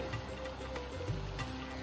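Salted water for rice flour butter chakli dough bubbles faintly in a pot, a soft steady simmering hiss with light ticking pops, no voices over it.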